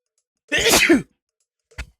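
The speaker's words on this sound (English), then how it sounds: "Gotta sneeze." A single loud, close sneeze with a sharp burst of breath, followed by a short quiet pause and a brief sniff or exhale.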